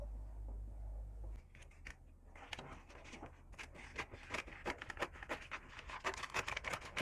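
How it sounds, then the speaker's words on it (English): Scissors snip through a paper sewing pattern for a cape, a run of soft, close, quiet crisp cuts and rustles coming in irregular bursts after a brief low hum. "So we'll just go ahead and cut it out and use it to cut our back pattern."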